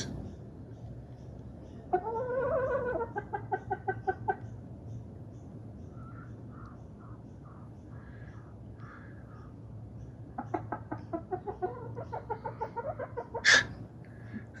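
A hen named Daisy clucks repeatedly in rhythmic bursts with a brief squawk near the end, over a steady low hum, with quiet voices talking nearby.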